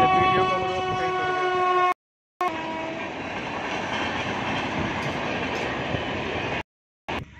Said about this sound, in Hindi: फिलहाल रेल आ गई, यहाँ पर रेल की वजह से थोड़ी आवाज़ नहीं आएगी